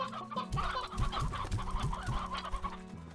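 Chickens in the video game Slime Rancher cluck in a steady run of short repeated calls over a busy, continuous game soundtrack.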